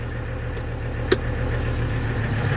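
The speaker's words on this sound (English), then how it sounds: "See how the engine's not shutting off?" A 1985 Mercedes 300TD diesel with a vacuum leak keeps idling after being switched off, a steady low rumble with one brief click partway through.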